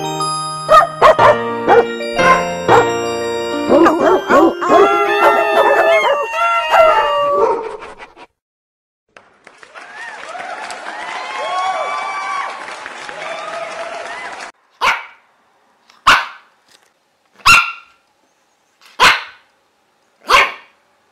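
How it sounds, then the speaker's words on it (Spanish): Pug dogs bark and howl loudly and close by, a long run of yelps and drawn-out howls, then a few separate sharp barks spaced a second or so apart near the end. "los peluditos ladran"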